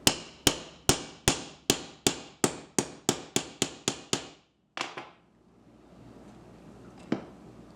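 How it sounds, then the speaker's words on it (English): A hammer drives a metal punch into a thick basketball in a steady run of about a dozen sharp, ringing blows, then a pause and a couple more scattered hits. "I'm going to use my punch tool, and I'm going to take my hammer"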